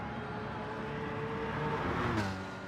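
A Jaguar F-Type racing car engine in Gran Turismo Sport drones steadily at high revs, a continuous buzzing roar that rises slightly near the end.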